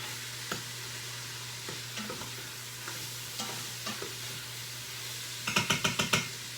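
Onions sauté in an Instant Pot, a quiet steady sizzle under a constant low hum, with scattered soft utensil taps and then a quick run of sharp scraping clicks near the end, close by, no voices.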